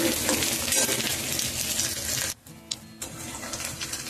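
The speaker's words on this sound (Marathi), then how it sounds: "लसूण पाकळ्या टाकायच्या, छान मिक्स करून घ्यायच्या आणि 1 मिनिट होऊ द्यायचे" Garlic cloves fry in a pan for a cowpea bhaji, giving a loud, dense, steady sizzle close by. It briefly drops away near the middle, then resumes with stirring crackles.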